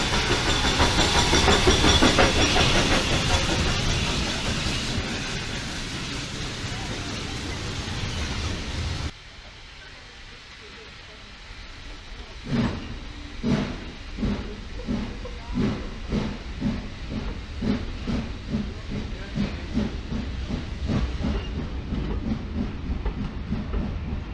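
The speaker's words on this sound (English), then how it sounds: "Here comes our train back to Keighley." A loud steam hiss gives way to a heritage steam train on the Keighley & Worth Valley Railway rolling past, its wheels clattering in a steady rhythmic clickety-clack.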